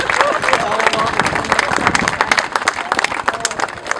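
An audience at a Bahamian brewery opening breaks into dense, close clapping with crowd murmur and a few cheers, steady and lively throughout.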